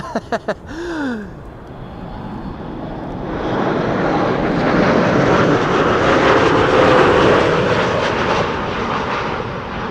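An Icelandair Boeing 737 MAX 8 roars in to land at Amsterdam Schiphol on a windy day, its broad engine noise swelling and holding loud and close, with some wind buffeting at the start.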